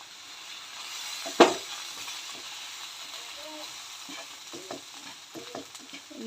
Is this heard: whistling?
no